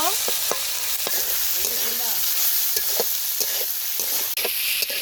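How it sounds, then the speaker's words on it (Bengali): Malabar spinach is stirred into hot oil with garlic, onion and green chilli in a pan. A loud, continuous sizzle is broken by repeated scraping strokes of the spoon, close up. "এখন এই যে দিয়ে দিব শাক। শাকটা খুব ভালোভাবে মিশিয়ে নিব।"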